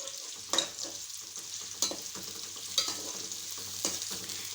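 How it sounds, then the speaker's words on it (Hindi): Onions frying in a pan give a steady soft sizzle, broken by four sharp stirring scrapes spaced about a second apart, with no voices. "प्याज को जो है आप फ्राई कर लेंगे अच्छी तरीके से।"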